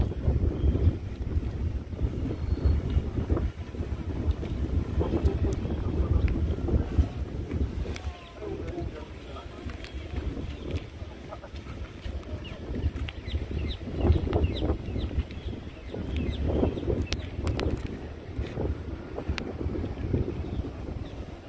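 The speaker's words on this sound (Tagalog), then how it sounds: "malakas ng hangin. Lalo na pag sa taas." Strong, steady wind at altitude roars and buffets across a drone's microphone, with low rumbling gusts that keep going without a break.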